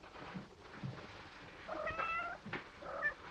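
Cats meow several times, faint and somewhat distant, with short plaintive cries in an indoor setting from a 1947 film, over a quiet background.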